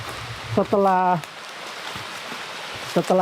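A waterfall and a spring-fed river run right beside a plot of riverside land near Grojogan Sewu. The water makes a steady, close rushing hiss beneath someone speaking.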